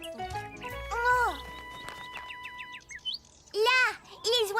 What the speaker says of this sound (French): Là, les oiseaux sont revenus.